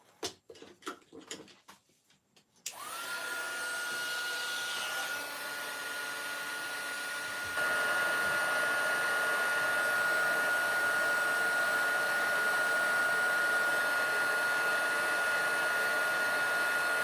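A heat gun switches on after a few soft taps and handling noises, then blows a loud, steady airy whir that gets louder partway through while heat-setting paint on fabric.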